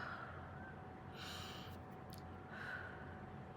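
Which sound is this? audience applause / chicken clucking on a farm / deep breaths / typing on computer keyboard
deep breaths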